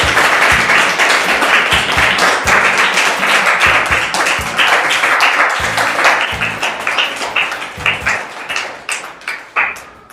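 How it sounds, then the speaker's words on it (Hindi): A game-show audience claps together in a dense, loud burst of applause that thins into scattered claps near the end, with no talking. "जोरदार तालियां हो जाए वैष्णवी जी।"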